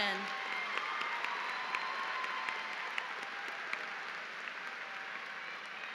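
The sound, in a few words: audience applause at a graduation ceremony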